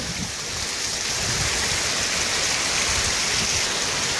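Steady rain falls in Ranpar village, Bhanvad taluka, Devbhumi Dwarka district, a dense continuous hiss of close, loud downpour with no voices.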